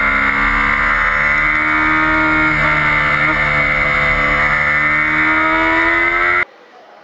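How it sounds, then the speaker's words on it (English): Racing motorcycle on the Silverstone circuit powering out of a corner and climbing through its gears toward the back straight, a loud continuous engine note with rising harmonics that holds steady for about six seconds before cutting off abruptly. "you're powering it to the outside, going up your gears, collect the high gear, hit the back straight"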